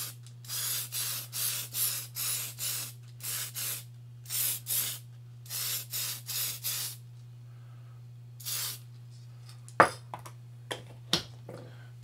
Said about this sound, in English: Probably getting my phone covered in white overspray here.